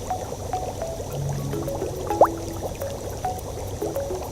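Liquid poured during a water filtration process, a soft continuous trickle with a brief rising gurgle partway through, quiet and alone with no talk.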